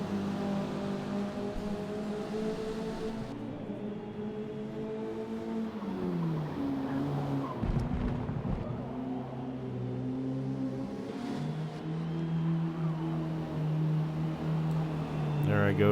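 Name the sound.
racing car drifting in the video game Forza Motorsport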